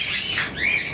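Pet birds in a bird shop, a dense, high chattering of chirps and squeaks that rises and falls throughout, fairly close and with no talk.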